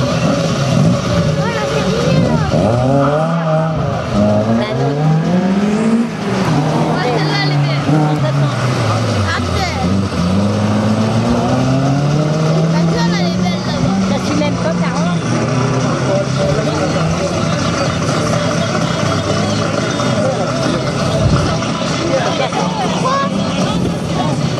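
A Peugeot 106 Rally car runs a slalom course at Calais, its engine revving up and down in sweeping pitch changes beneath a commentator's steady talk.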